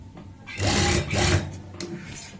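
A sewing machine stitches a folded fabric seam on a pant palazzo: two short bursts of whirring needle motion close up, then it slows and stops.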